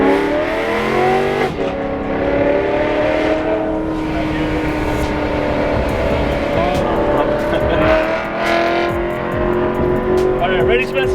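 Supercharged BMW E92 M3 engine roaring up close, rising and falling revs with a whining supercharger and throaty exhaust, loud and sustained, with people talking over it.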